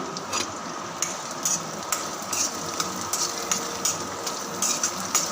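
Onion and garlic frying in a pan for a vegetable dish, a constant close hiss with regular sharp clicks of stirring, no talk.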